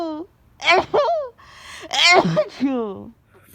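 A person with flu sneezes several times in quick succession, loud and close, each sharp burst preceded by a gasping inhale.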